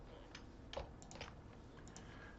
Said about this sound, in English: I'm going to press on the keyboard Ctrl-U to bring out the source code